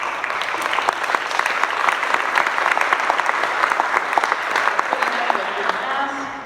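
An audience at a community candidates' accountability assembly for a District 3 Supervisor race applauds itself, giving steady, dense, sustained clapping from many hands that fills the room without pause.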